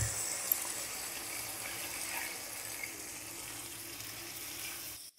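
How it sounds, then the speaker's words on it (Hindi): Water poured into mutton keema frying in oil, a steady close hiss and sizzle with faint splashing and stirring running throughout, no voices. "अब हम इसमें पानी ऐड करेंगे।"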